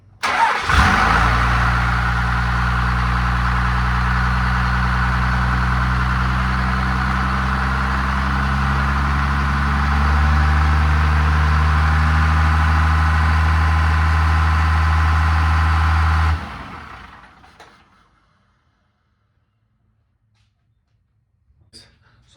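A 12-valve Dodge Cummins diesel cranks and fires loudly, then settles into a steady, deep, rumbling idle for about fifteen seconds before abruptly cutting off, leaving near silence.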